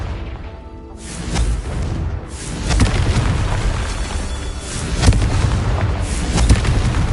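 Repeated Confringo fire-spell blasts from the Hogwarts Legacy game, a dense run of loud booming explosions rumbling one after another with sharp onsets throughout.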